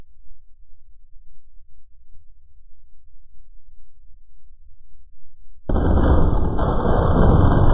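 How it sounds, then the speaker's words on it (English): A rocket and nuclear bomb explosion erupts suddenly after a long near-silent stretch, a loud, sustained roaring blast with a harsh ringing edge that holds until the end. "A rocket and nuclear bomb is coming."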